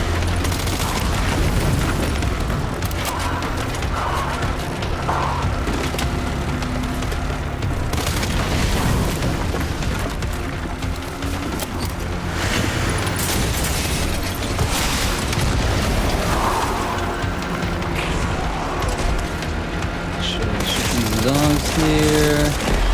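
Red fuel containers blown up by gunfire in Resident Evil Requiem make heavy, booming blasts mixed with rapid shots, loud and continuous over a dense game soundscape.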